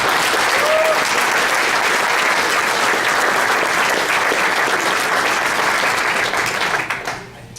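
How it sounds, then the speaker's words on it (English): An audience applauds steadily at a school gathering honouring a sports leader, dense loud clapping sustained for about seven seconds before tapering off at the end. "just a round of applause for Mr. O'Donnell"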